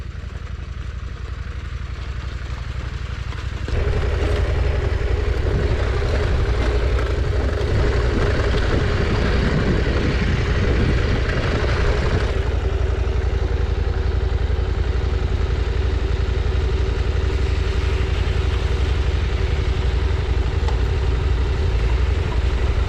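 A KTM 790R adventure motorcycle engine drones steadily while riding on a Colorado/Utah trail, quieter at first, then a louder, sustained rumble after a few seconds that stays continuous and close throughout.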